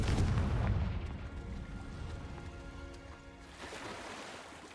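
A Confringo fire spell blast in Hogwarts Legacy, a deep booming burst at the start that rolls into a long rumbling decay, heavy low end fading over several seconds.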